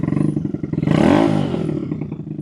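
An RPS Racer Nibbi PE26 engine with a 125 main jet, running outdoors in North Texas heat, idles in a pulsing putter, then revs up to a brief roaring peak before dropping back.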